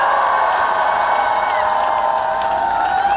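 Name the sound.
crowd applause and cheering at a campaign rally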